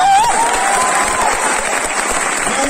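An audience at a teachers' meetup in Patna applauds loudly, a dense, steady burst of clapping with some cheering, close and filling the whole moment.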